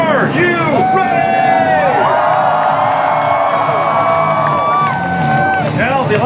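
NASCAR fans at Daytona before the start of the 2015 Coke Zero 400 raise a loud, continuous roar of cheering, with whoops and whistle-like shouts rising and falling over the babble of the crowd.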